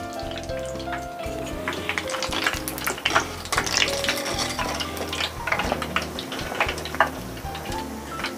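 Stuffed tofu (tahu isi) frying in hot oil, a steady dense crackle and sizzle running throughout with scattered sharper pops, close and fairly loud, no voices.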